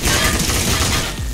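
Gunfire in the Roblox game Military Tycoon, a dense, loud burst of rapid shots blurring into a continuous rattling roar mixed with game music.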